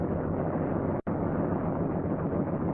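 A C-47 Skytrain piston engine idling steadily at about 1,000 RPM, a continuous broad rumbling drone with one brief dropout near the middle.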